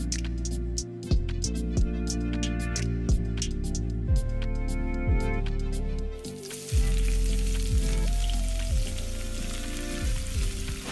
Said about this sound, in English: You can fry your steak for 10 minutes.